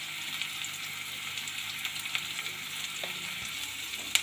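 Onions and chillies fry in a pan for a Kerala dish, a steady, even hiss of hot oil heard close up, with a few soft clicks and stirs and no talking.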